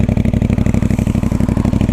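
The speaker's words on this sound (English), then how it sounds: "Standard exhaust, that sounds absolutely incredible." A CFmoto 450 MT motorcycle on its stock exhaust runs loud and close, a steady deep pulsing beat with a rough, throbbing character, engine alone without talk.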